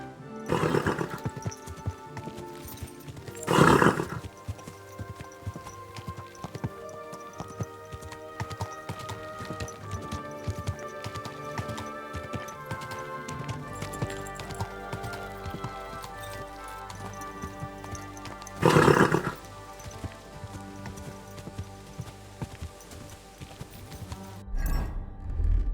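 Horse hooves clip-clop steadily in Kingdom Come: Deliverance II, with a few louder surging bursts and whinny-like calls rising above the rhythmic galloping.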